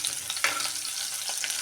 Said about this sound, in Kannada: ಸಾಸಿವೆ ಹಾಕಿದ ನಂತರ ನಾನು ಬೆಳ್ಳುಳ್ಳಿ ಹಾಕ್ತಾಯಿದ್ದೀನಿ. ಸ್ವಲ್ಪ ಬೆಳ್ಳುಳ್ಳಿ ಎಣ್ಣೆಗೆ ಫ್ರೈ ಆಗಲಿ